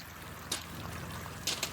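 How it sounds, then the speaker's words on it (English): Floodwater runs down through a flooded yard and paddock valley, a steady rushing and gurgling wash with a few brief louder splashes, close by and heard alone. "it is quite actually amazing to see the how much water comes down through here"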